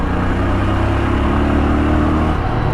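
Yezdi Scrambler motorcycle engine accelerating, a loud close, steady mid-pitched roar that holds throughout with wind rush.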